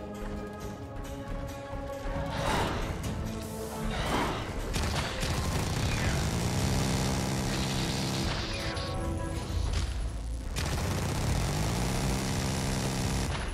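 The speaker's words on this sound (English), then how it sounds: "That minigun sounds so good." Sustained minigun fire from the video game Carrion, a dense, continuous mechanical roar with rapid rattling that runs loud through nearly the whole stretch, briefly dipping once before resuming.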